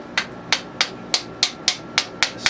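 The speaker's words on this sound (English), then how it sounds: "I can also hit it with the hammer while this is out" A hammer strikes T96 transmission assembly parts eight times in an even rhythm, each blow a sharp, loud metallic knock with a short ring.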